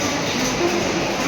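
Steady broadband rumble of trains at Howrah railway station, a dense, continuous roar with no clear breaks, heard only briefly.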